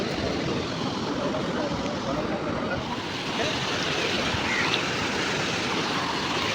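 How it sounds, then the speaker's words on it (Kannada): Sea waves wash steadily onto Murudeshwar beach, a continuous broad roar of surf with wind noise mixed in, loud and close throughout. "ಇನ್ನೂ ತುಂಬ ಅಲೆಗಳು ಬರ್ತಾಯಿದೆ."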